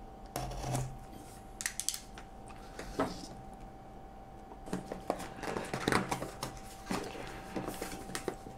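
Scissors snip open the cardboard packaging of a Logitech Harmony Smart Keyboard remote with a string of irregular crisp cuts and crinkles, close by and fairly quiet, with no talking.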